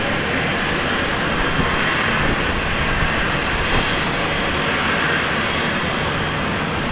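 An Air Canada airliner departs Brisbane Airport, its engines a broad, steady roar at constant loudness throughout, with no voices.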